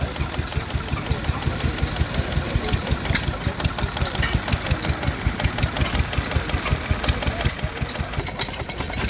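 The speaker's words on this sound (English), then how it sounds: "Very quiet, smooth engine." A vintage stationary engine driving a water pump and an alternator runs quietly and smoothly at a Victorian show, a steady rapid mechanical chuffing with even beats, close and continuous, with no voices.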